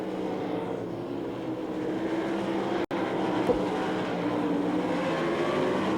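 Sprint cars race on the dirt oval at the 1997 Knoxville Nationals, their engines a continuous, fairly distant roaring drone that breaks off for an instant midway, then resumes.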